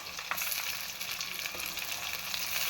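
Chopped tomato goes into onions frying in a pan for an aloo anda matar curry, producing a steady, fairly faint sizzle with light stirring scrapes throughout.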